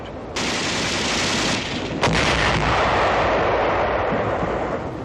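Heavy artillery and gunfire with shell explosions burst around tanks advancing up a hill against island strongpoints in 1945 combat, a loud, dense and continuous roar with a sharp blast midway.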